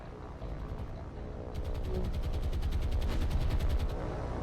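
Rapid bursts of machine-gun fire from a Blenheim aircraft crackle in a naval combat game, set against a steady engine drone. The firing grows denser and louder partway through and continues to the end.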